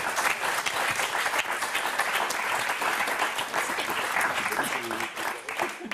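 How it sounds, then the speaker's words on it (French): A TV game show studio audience applauds four contestants with loud, continuous clapping that fills the room, and faint voices can be heard underneath near the end. "on va vous applaudir tous les quatre"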